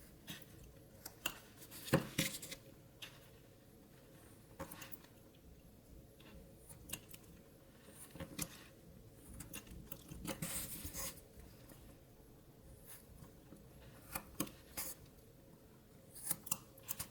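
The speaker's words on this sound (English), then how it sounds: "So I'm just trimming wood to, leaving a little chunk of wood in there" A knife trims small shavings from a carved wooden kitten, making quiet, irregular scraping cuts and short clicks at close range with no voices.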